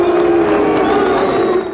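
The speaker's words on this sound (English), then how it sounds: "He was booed at every turn." Crowd noise from workers at a shipyard where George Bush is speaking, a loud, dense, continuous roar of voices that fits booing, steady across the whole short stretch.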